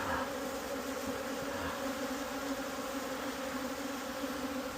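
Honey bees buzz at an open hive during brood inspection, a dense, continuous close-up drone with a steady pitch and no talk.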